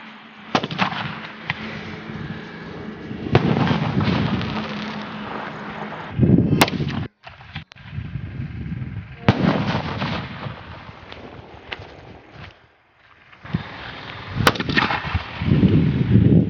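Sivakasi sky shot firecrackers go off outdoors in a loud series of booming bursts and sharp cracks, coming in clustered volleys with short gaps and wind noise against the microphone, no talk.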